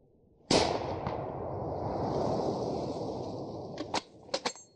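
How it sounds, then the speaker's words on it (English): Rifle warning shots fired into the darkness at night: one sharp, loud blast with a long rumbling tail, then a few quick, closer cracks near the end, with no voices. "fires a few warning shots into the darkness"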